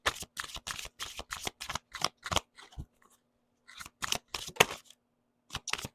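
Close, crisp riffling and snapping of tarot cards as they are shuffled and drawn, heard in quick bursts with brief pauses between them.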